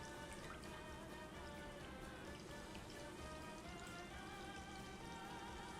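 Ginger ale poured slowly into a bowl of cranberry and pineapple sherbet punch, a steady fizzing, trickling stream that runs evenly and close throughout with no voices.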